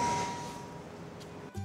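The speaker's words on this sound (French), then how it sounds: "il y a une sonnette" A doorbell at a start-up's office rings once, a fading chime tone at moderate volume, followed by a faint click and a short low thump.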